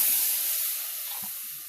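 Ground spice paste hits a hot wok over a clay village stove with a short burst of steamy hiss that fades quickly. No voices.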